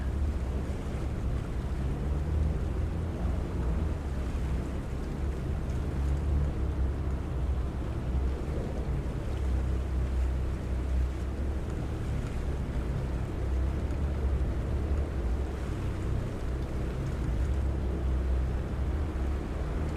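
Boat engines maneuver alongside a dock in the video game Farming Simulator 25, a steady low rumbling drone with wind-like noise that holds evenly for the whole stretch, with no talk.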